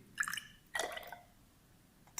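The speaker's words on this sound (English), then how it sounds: "Pour the acid very carefully," Hydrochloric acid being poured into a glass test tube gives two short bursts of splashing and trickling liquid, close and fairly quiet, separated by a pause and ending in a brief faint clink.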